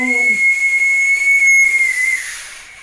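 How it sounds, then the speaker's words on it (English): A single long, shrill police whistle blast holds one steady high pitch for about two seconds, then cuts off, leaving a faint hiss. "Everybody went quiet when they heard PC Yon Mahedaff blowing his whistle"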